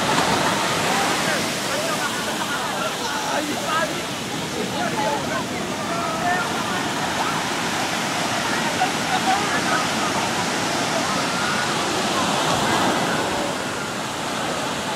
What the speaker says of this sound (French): Prochaine vague.